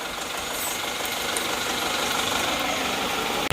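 An Isuzu Panther turbo diesel engine idles steadily up close, a continuous rough mechanical drone that stays even until a brief sharp click at the very end.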